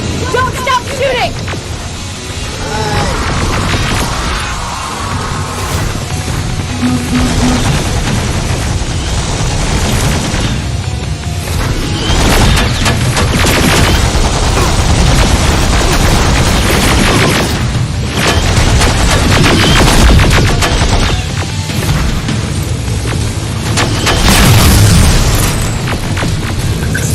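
Rapid gunfire and booming explosions fill a Terminator video game battle, dense and loud throughout with continuous bursts, while voices shout over the chaos.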